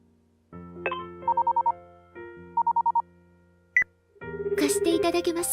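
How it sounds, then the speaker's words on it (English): A phone call placed in a visual novel game: synthetic tones and two short bursts of ringback pulses, a brief chime, then music-like chatter, all fairly quiet and clean. "I nervously dial Tokizaki's number"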